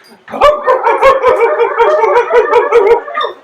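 Several people imitate dogs with their voices, barking, yipping and howling together in a loud, continuous chorus of sharp repeated yelps for about three seconds.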